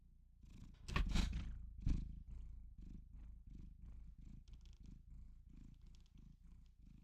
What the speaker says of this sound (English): He's purring loud